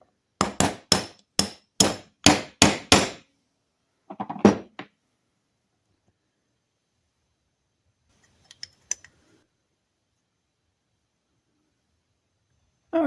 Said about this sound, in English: Now we should be able to drive the gear out from the other side